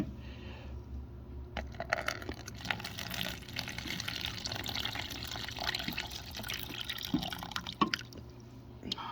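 Water drips and trickles into a dry tarantula enclosure, a run of small close splashes and irregular drops over a steady low background, with no talking.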